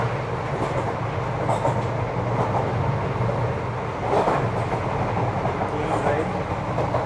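Train rolling along railroad tracks on a long ride in South India, heard from inside a carriage as a loud, continuous rumble with rhythmic clacking and rattling, plus some background voices.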